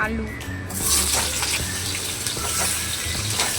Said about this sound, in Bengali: আলুগুলো একটু ভালোভাবে ভেজে নেব।